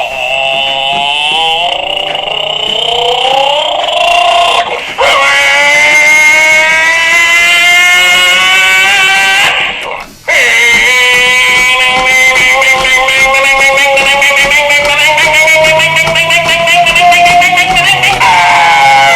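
A vehicle engine idles steadily and loudly close by after being started, a continuous running drone with slight shifts in pitch and two brief dips in level.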